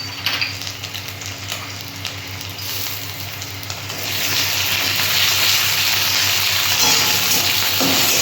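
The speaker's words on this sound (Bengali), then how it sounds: "আদাটা একটু ভাজা ভাজা হোক" Ginger paste frying with softened onions in a pan gives a close, steady sizzle with stirring scrapes, growing louder and denser partway through.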